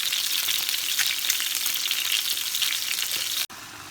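Eggs frying in a pan for egg curry give a steady, close sizzle with no one speaking, and the sound drops away sharply just before the end.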